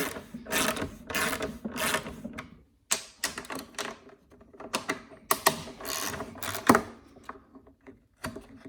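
A ratchet wrench removes a bolt from the recoil starter of a Honda GCV160 mower engine, giving rapid clicking runs in close, uneven bursts separated by brief pauses.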